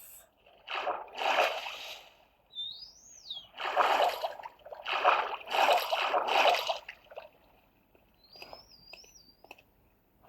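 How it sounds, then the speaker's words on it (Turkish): Birdsong from a Minecraft survival game: a few short chirping whistles surface between louder bursts of game activity, fairly faint and intermittent with no talk. "Kuş cıvıltıları geliyor."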